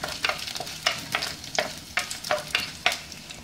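Curry leaves and a dried red chilli sizzle in hot oil in a pan for a no-coconut moru curry, with about eight rhythmic stirring scrapes over a steady close frying crackle and no talking.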